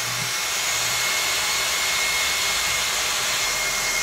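A Conair rotating hot-air brush blows air in a steady, loud, continuous rushing hiss with a faint high tone, close by and uninterrupted, with no talking.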